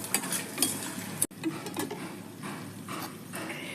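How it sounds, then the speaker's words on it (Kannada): Chana dal, dry red chillies and a pinch of hing roast in a pan while a spoon stirs and scrapes against the metal, giving quick clinks and a soft sizzle close by, with no talking. "ಕಡಲೆಬೇಳೆ ಒಂಚೂರು ಕೆಂಪಾಗೋ ಥರ ಹುರಿಬೇಕು."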